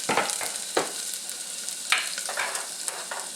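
Cumin and ginger sizzling in hot oil in a pan for khichdi, a steady light crackle broken by several short bursts of stirring and spattering, close and fairly quiet.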